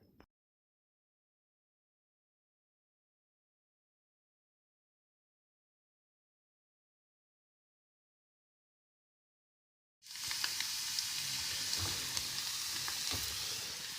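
Potato chips deep-frying in hot oil, a steady loud sizzle starting suddenly after a long stretch of silence and running to the end.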